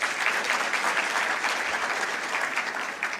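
Audience applause at a graduation ceremony for a cohort of public service emerging leaders, continuous full clapping from a large crowd, fairly loud and steady with no voices over it.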